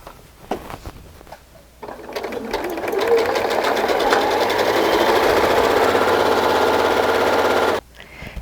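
Close by, a sewing machine runs in one sustained stretch of fast, steady whirring, stitching a carry loop onto a baby carrier, with brief handling clicks before and after.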